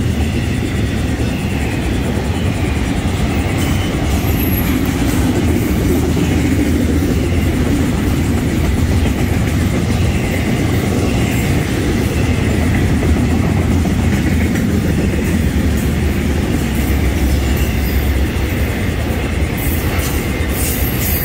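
Florida East Coast Railway freight train of auto racks and intermodal cars rolling past, a steady loud rumble with faint wheel clatter, unbroken for the whole stretch and with no voices.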